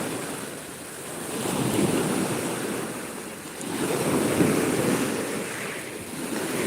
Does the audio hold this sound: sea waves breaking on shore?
yes